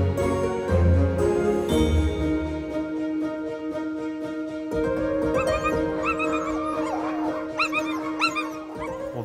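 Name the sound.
sled dogs barking and whimpering in Lapland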